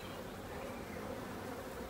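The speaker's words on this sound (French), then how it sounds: "je vais pousser les abeilles" Honeybees buzz steadily on a hive frame during an open-hive inspection, a continuous close droning hum that holds at an even level throughout.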